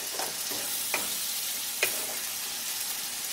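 Onion, ginger and garlic masala fries in a pan, a steady hissing sizzle broken by a few sharp scrapes and clicks of stirring.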